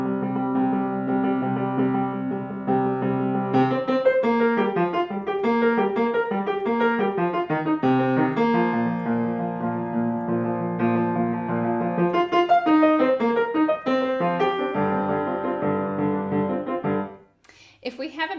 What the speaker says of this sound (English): Today we're talking about how to teach the Dance in Bulgarian Rhythm No.2 by Bartók.